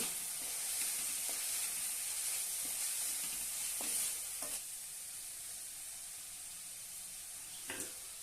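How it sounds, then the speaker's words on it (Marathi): Tomato and onion being sautéed with salt and ground coriander in a pan, a soft steady sizzle with a few spatula scrapes and taps, fairly quiet and easing slightly toward the end. "चवीनुसार मीठ आता आपण छानपैकी परतून घेऊया"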